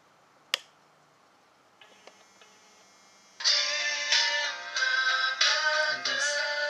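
An Android phone rings with an incoming call: after a faint click and a few soft ticks, a bright, steady electronic ringtone starts and repeats in pulsing bursts near the mic, with no talking.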